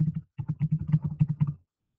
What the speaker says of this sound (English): This is where I'm going to type in my answer choices.